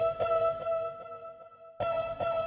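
Vocal effect sample from the Exhale plugin library: a tonal, breathy vocal texture with rhythmic pulses, a short gap of near silence, then a second loud burst, with no talking.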